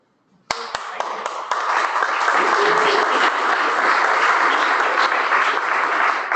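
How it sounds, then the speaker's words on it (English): A room full of people bursts into applause after a brief near-silence, starting with a few scattered claps that swell within a second into steady, loud clapping that holds to the end. "Another quick round of applause for Paige and Rocky Mountain Rescue."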